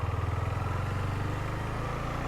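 A KTM Duke 250 motorcycle pulls away as the clutch is eased out, its engine holding a loud, steady, close mid-pitched drone with a slight pulsing throb and no voices.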